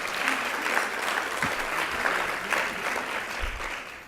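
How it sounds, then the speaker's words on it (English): An audience applauding a pair of publishers at a conference, dense continuous clapping from a crowd that holds steady for several seconds. "Give them a round of applause"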